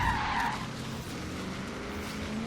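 V8-swapped Nissan 370Z off-road in Forza Horizon 3, tires skidding over a rumbling engine in a brief burst, louder at the start and then settling into a steady low drone.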